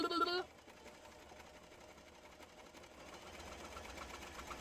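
Home sewing machine running with the foot pedal pressed down, a low steady mechanical whir and rattle that follows a brief burst of voice at the start and builds slightly toward the end.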